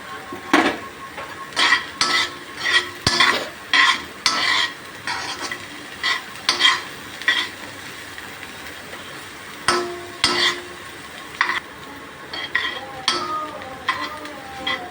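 Carrots stirred in a pan for cheesy pasta, with a spoon clinking against metal in irregular scraping strokes and a faint sizzle beneath, close and fairly loud, no talk.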